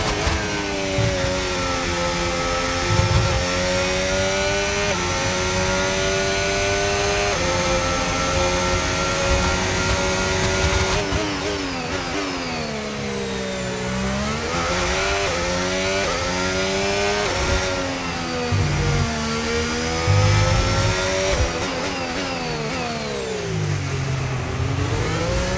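A Mercedes racing car in a racing video game, its engine whining loudly and continuously, with pitch climbing and dropping through repeated gear changes and corners over about twenty-five seconds, no talk.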